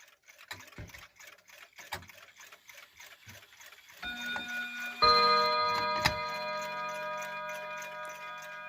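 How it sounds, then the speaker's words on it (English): A 1960s Hermle mantel clock that strikes on three chime rods ticks in a steady close rhythm, then a bright ringing chime tone starts and a second rings out and lingers over the ticking. "This is a Hermle mental clock made in the 1960s."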